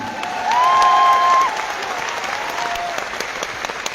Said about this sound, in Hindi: आपके लिए ये आत्मा से दिल से ताली मार रहे हैं